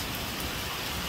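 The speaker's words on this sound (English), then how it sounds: "More strong the rain and the wind." Heavy rain pours in a dense, steady wash with no gaps, loud and close, with no voices over it.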